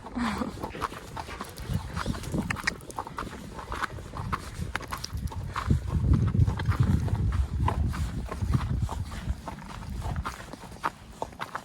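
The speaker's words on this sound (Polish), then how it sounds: "Super koń." A horse walks outdoors on a windy mountain pasture, hooves clip-clopping steadily and close under a constant rush of wind noise.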